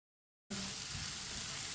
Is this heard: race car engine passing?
no